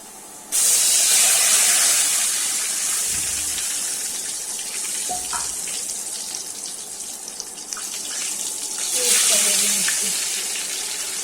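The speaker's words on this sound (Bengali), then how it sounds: "এখন তরকারিটা মাছ ভাজা তেল দিয়ে কষিয়ে নিব" Steady loud hiss of vegetables sizzling in leftover fish-frying oil in a pan, with occasional clinks and soft scraping, continuing without pause throughout.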